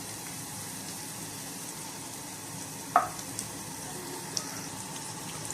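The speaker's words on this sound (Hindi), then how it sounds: "टमाटरों के नरम होने तक इसे भून लेंगे" Three finely sliced small tomatoes frying with ginger and green chili paste for a bitter gourd chicken curry, a soft, steady sizzle with one sharp clink of a utensil and a few faint taps.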